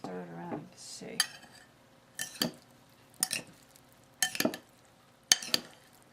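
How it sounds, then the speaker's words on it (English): A bruschetta mix of tomatoes, onions, cheese and balsamic vinegar stirred in a bowl: a voice first, then four or five separate scraping, clinking strokes of the utensil, spaced about a second apart, with quiet between them. "Let's stir it around and see."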